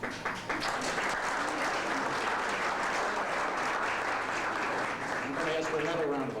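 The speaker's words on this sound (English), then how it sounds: "another round of applause" Steady applause from an audience gathered at a museum event, dense and continuous throughout, with a voice briefly audible near the end.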